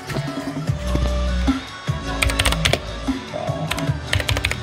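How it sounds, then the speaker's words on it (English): Cosmic Byte CB GK 23 Artemis RGB wired mechanical keyboard typed on close to the mic, a quick run of clacking keystrokes with a few louder bottom-out thumps, alone without speech. "the most important part of this video, that is the typing test"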